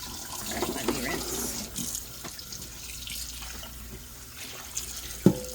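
Water runs from a tap as tie-dyed fabric is rinsed in a sink, a steady, moderate splashing with a few louder spatters, while people talk softly nearby.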